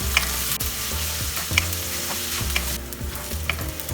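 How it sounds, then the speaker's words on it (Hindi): Sliced onions and green chili fry over medium-high flame in a pan, a loud continuous sizzle with rhythmic scraping stirs of a spatula every second or so, with no voices. "प्याज जब तक हल्का सा कलर चेंज नहीं करते तब तक हमें फ्राई करना है।"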